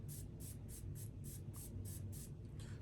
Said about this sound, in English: I sprayed with the water. Water's coming.